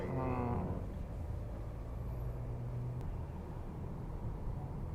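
Hyundai Palisade SUV accelerating as the engine note builds, a steady low drone with road and wind noise, close and continuous with a brief tonal rise at the start.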